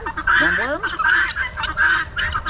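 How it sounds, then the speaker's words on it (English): Bruno, a pet bird, gives repeated loud honking calls in quick bursts, close by, over a low rumbling background with a brief voice. "That's my bird here."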